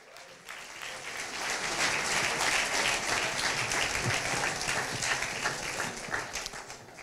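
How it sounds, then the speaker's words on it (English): An MBA talent show audience gives a warm round of applause for Dean Garrett, a broad sustained clapping that swells after the first half second and holds steady, moderately distant. "Warm round of applause"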